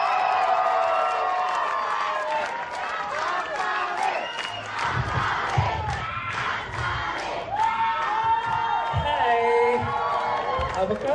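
An audience at a live music performance erupts in loud cheering, whoops and shouting mixed with scattered clapping, building in bursts over several seconds with voices calling out throughout.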